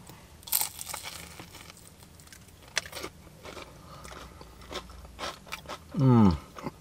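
A crunchy battered sausage from a fish and chip shop in the north of the UK is bitten and chewed close up, with crisp crackles and soft chewing at irregular intervals and a brief pitched vocal sound near the end.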